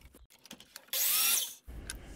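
Miter saw slicing through a wooden board in one short, bright whine of about two-thirds of a second, loud and close, framed by quieter handling knocks before and after.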